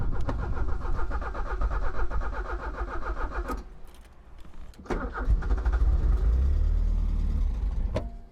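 An abandoned Porsche 944 that sat for years revs loudly up close, its engine note rising and then cutting out abruptly before sputtering back, with a brief hard knock near the end.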